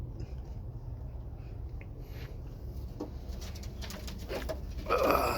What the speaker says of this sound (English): This is my racing pigeon.